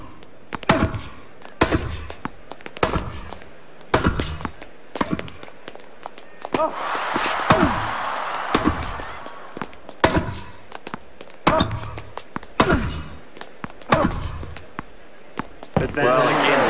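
Tennis shots in the Grand Slam Tennis 2 video game come as regular sharp thwacks of ball on racket and court, roughly one every second, while a commentator talks over the rally and a crowd swells briefly midway.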